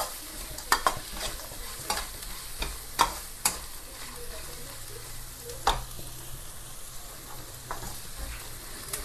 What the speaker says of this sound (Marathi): चांगलं असं मस्त भाजून घ्यायचं आहे.